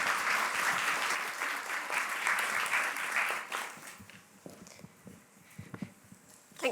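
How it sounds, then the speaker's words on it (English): Applause from an audience at a Women in STEM event, steady clapping for a few seconds that thins out into scattered claps and quiet room noise. "Big round of applause for Holly, please."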